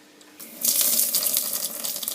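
Water gushes from a British sink tap with no filter, starting quietly then opening into a loud, steady splashing spray that continues to the end.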